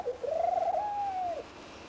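A single drawn-out coo from a silver dove during courtship, one smooth sustained call lasting over a second, fairly close and clear with nothing else in the background. Males carry yellow markings on their wings and foreheads.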